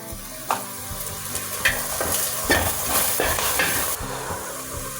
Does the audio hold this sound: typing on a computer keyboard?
no